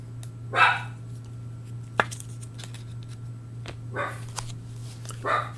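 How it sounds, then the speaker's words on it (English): Dogs bark excitedly indoors, several sharp separate barks and yips spread across a few seconds, moderately near, over a steady low electrical hum and with no talk. "And the dogs are going crazy now."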